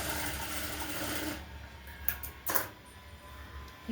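A sewing machine runs steadily while stitching blouse sleeves, a close, even mechanical whir that stops partway through, leaving a few brief clicks and thumps of handling. No one speaks.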